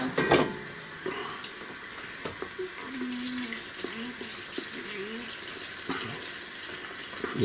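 Hot water runs from a tap into a container while making cabbage soup, a steady faint splashing stream with a few clunks and knocks of handling around it.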